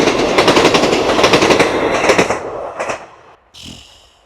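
Train rolling past on tracks right beside a campsite, a loud close rhythmic clatter of wheels over rail joints that gradually fades, followed by a few quieter clunks.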